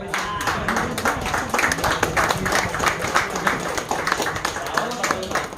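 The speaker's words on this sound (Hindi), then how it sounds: "दोस्तों तालियां हो जाए।" Audience applause at a prize distribution function, steady mixed clapping from a crowd at moderate volume, running under an announcer's voice the whole time.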